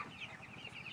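Native free-range chickens cluck softly while foraging for their own feed around houses and fields, a low steady murmur of short clucks over a faint outdoor background.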